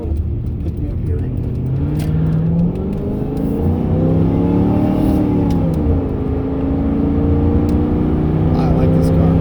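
A 1997 Mercury Cougar XR7 engine revs up with rising pitch as it accelerates, dips during a gear shift, then climbs again, loud and close from inside the cabin.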